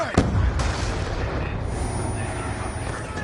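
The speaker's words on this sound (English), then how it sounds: "Throwing frag!" A frag grenade blast in the shooter game Call of Duty Black Ops 2 lands with a loud boom near the start, followed by dense rumbling battle noise and scattered gunfire, with faint shouted voices in the mix.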